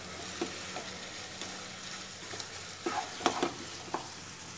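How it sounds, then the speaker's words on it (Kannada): Chicken pieces fry in oil with soy sauce for pepper chicken, a steady sizzle with scattered scraping stirs and clinks of a spoon against the pan, close and fairly quiet. "ನೋಡಿ ಚೆನ್ನಾಗಿ ಫ್ರೈ ಆಗ್ತಿದೆ."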